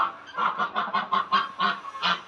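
Geese or ducks honk repeatedly in a farm garden, a run of about ten loud, nasal calls in quick irregular rhythm, close by with no talking.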